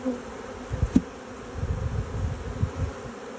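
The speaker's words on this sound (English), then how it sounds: "So we're going to shake these bees down. We're going to dump them in here." A low, dense swarm buzz of honey bees being shaken into a full-sized hive box swells and wavers close by, with a couple of soft knocks near the start.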